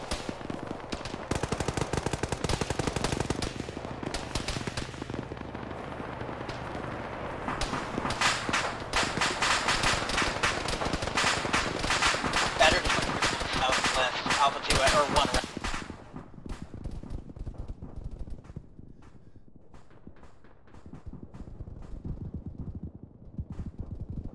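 Dense bursts of automatic gunfire and scattered single shots crackle loudly through a military tactical shooter game, rapid and sustained for about fifteen seconds before thinning to sporadic cracks, with voices talking over the battle.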